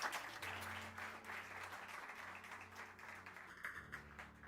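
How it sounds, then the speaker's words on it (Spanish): Congregation applauding in a church service, a steady wash of clapping with a low hum underneath and a brief tonal sound near the end. "Denle un aplauso al Señor"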